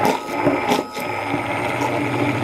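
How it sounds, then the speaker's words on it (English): Countertop blender whirring steadily as it whips aquafaba with dry ingredients into a frothy vegan mayo, a continuous close motor sound with a brief dip near the start. "I'm just going to blend this till it gets frothy."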